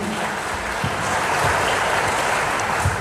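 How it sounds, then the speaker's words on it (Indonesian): Sustained applause from a church congregation at a worship service, a dense, even wash of many hands clapping together at a steady moderate loudness throughout, with no voices. "Kasih tepuk tangan yang luar biasa bagi Tuhan Yesus."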